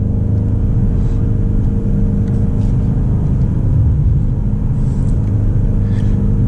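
A 2024 BMW X5 M Competition SUV with 617 horsepower drives on the road, its engine giving a steady loud rumble and road roar that continues without a break, with no talk over it.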